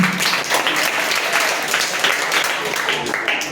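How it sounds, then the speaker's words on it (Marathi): Audience applause welcoming a singer at a celebration event, dense continuous clapping from a crowd, loud and close throughout with no break. "चला तिला एकदा टाळ्या वाजून स्वागत करा"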